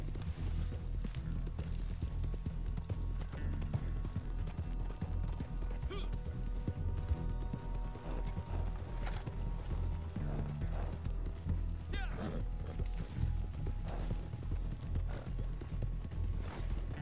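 Horse hooves clip-clop in Red Dead Redemption 2, a steady run of hoofbeats under a dense game soundscape with mechanical clatter and occasional faint voices.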